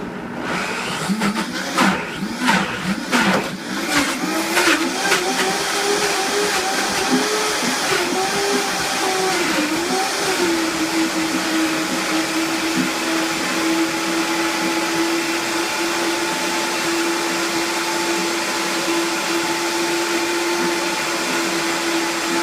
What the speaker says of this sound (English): And then you blend it until it's smooth.